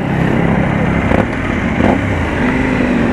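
A KTM Duke 790 motorcycle idles and blips through its exhaust, giving a continuous close, loud engine rumble with a couple of brief revs and no talking.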